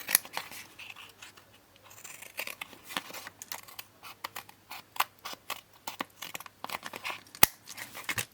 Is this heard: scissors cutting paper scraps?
yes